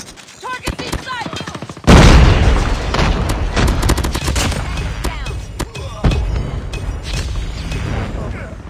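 A deployed sentry gun fires in a video game, a sudden loud sustained stream of rapid automatic rounds with booming impacts, and a second surge near the end, while voices call out over the shooting.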